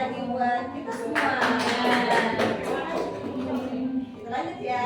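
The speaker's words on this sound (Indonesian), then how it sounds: "Oke, tepuk tangan lagi," Audience applause during a school talk on positive culture, a dense burst of clapping that swells in the middle and fades toward the end, with some voices mixed in.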